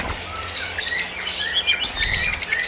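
Lovebirds kept as breeder pairs for sale in Pakistan give rapid, shrill chirps and tweets, several birds overlapping in quick bursts, close and fairly loud.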